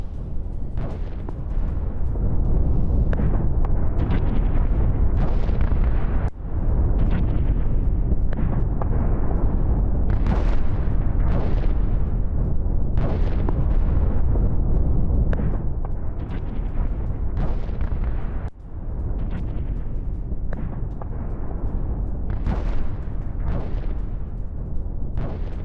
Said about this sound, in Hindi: उत्तरी गाजा में सबसे विध्वंसक बमबारी